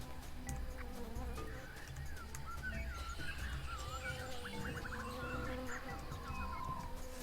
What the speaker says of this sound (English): That appears to also be bee sounds